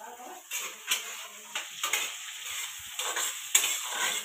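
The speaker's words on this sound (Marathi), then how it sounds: "लसूण पण याच्यात भाजून घेणार आहे बरं का, कांद्या टमाटर मध्ये." Garlic fries with onion and tomato in a pan for palak paneer, with a soft sizzle beneath a run of short scraping stirs and light clinks of a spoon against the pan, close and fairly steady.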